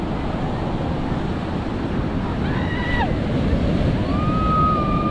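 Ocean surf rolls steadily onto a sandy beach at Elyu, a loud, continuous wash of waves with wind buffeting the microphone and a few faint whistling tones partway through.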